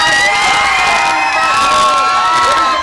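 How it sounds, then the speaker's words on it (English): Crowd at a Boost Cup Rocket League gaming tournament at Rage 2025 cheering wildly for a goal, a loud continuous roar of shouts and whoops filling the whole moment. "Crowd is going wild."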